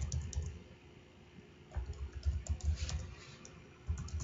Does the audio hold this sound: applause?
no